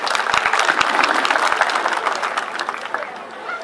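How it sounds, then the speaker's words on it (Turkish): Audience applause at a village fig festival in Gürleyik, Dalaman, steady dense clapping from a crowd throughout, slowly thinning toward the end. "Kendisine de bir alkışla teşekkür edelim."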